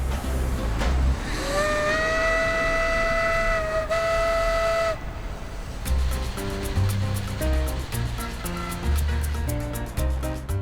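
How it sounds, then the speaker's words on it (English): An old Cuban sugar industry steam train sounds a long, loud, steady steam whistle for about four seconds over a continuous rumble and hiss, followed by rhythmic clanking of the running train. "a nostalgic ride on one of the Cuban sugar industry's fabulous old steam trains"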